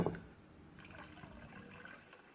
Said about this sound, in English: So now I'm going to pour this yeast in